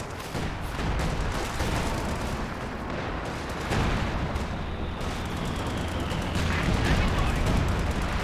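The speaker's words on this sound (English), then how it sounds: "Priest firing into the middle somewhere" Priest self-propelled artillery firing during a Company of Heroes 2 battle, steady dense rumble of shelling and gunfire with heavier booms throughout, under a commentator's voice.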